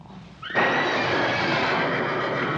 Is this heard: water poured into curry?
no